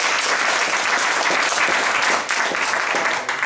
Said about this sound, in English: Everybody clap if you want them to win.